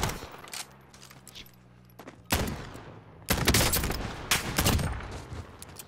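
Bursts of gunfire from Call of Duty Modern Warfare, with sharp broadband shots and a sustained rattling volley in the latter half, fairly loud against quieter game ambience.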